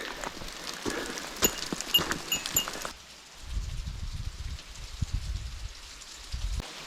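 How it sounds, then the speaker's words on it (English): Rain falls on the Kumano Kodo Kohechi forest trail between Koyasan and Kawayu, a soft, steady patter with sharper drops and rustling, faint overall and without talking. "So, it is officially raining."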